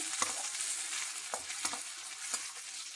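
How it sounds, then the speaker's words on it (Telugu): A masala of peanut and sesame powder fries in a pan with a steady soft sizzle, broken by a few sharp crackles and pops. No voices are heard. "ఇదైతే ఫ్రై అవుతుంది, ఇంకా కొంచెం ఫ్రై కావాలి"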